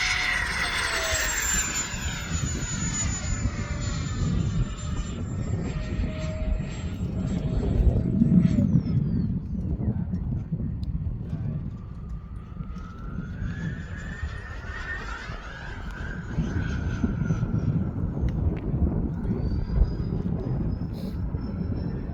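A Freewing A-10 radio-control jet with E-flite electric ducted fans loops at full power, its high fan whine rising and falling in pitch as it passes, over steady wind rumble outdoors.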